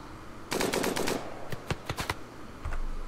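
Light machine gun fire in the video game RimWorld: a rapid burst of close cracks, then several separate shots in quick succession, ending with a low thump.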